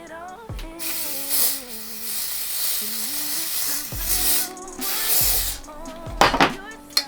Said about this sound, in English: so we're using the Ebon spray